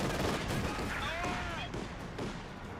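Infantry squads trade gunfire in Company of Heroes 2, a steady rattle of rifle and machine-gun bursts running through the whole stretch, with a voice talking over the battle.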